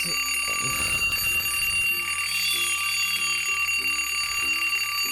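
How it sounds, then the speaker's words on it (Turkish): An alarm clock rings inside a Minecraft game, a shrill, steady electronic beeping pattern repeating throughout, layered over music and game sounds. "Sabah yedisini alarm kurmuş. Of kapat şunu."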